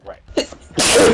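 A single sharp, close sneeze bursts out after a short word, loud and abrupt, ending in a breathy hiss.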